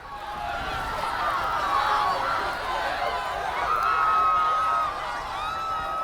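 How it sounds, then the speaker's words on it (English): A panicked crowd screams and stampedes across pavement in the neo-noir video game Aether & Iron, a dense wall of overlapping cries and running feet that stays loud for the whole stretch. "cries of panic and a stampede of feet clap the pavement"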